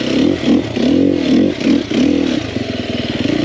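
A 2021 Sherco 300SEF four-stroke dirt bike engine revs loudly up close, with repeated throttle blips that rise and fall before settling into a fast, steady chug.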